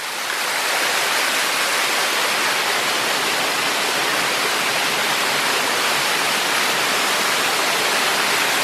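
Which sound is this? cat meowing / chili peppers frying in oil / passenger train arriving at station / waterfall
waterfall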